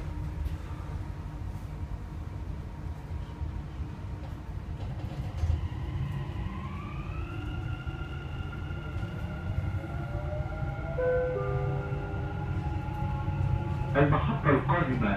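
A driverless Dubai metro train sits at a station as its doors close, with a rising electric whine and a chime or beeping near the end over a steady rumble, loud and close, while a voice announcement plays.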